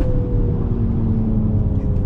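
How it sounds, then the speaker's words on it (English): A 2020 Mercedes-AMG GLC 43 SUV rolls onto the throttle, a loud, steady engine drone heard from inside the cabin with a sustained tonal hum. "rolling on throttle"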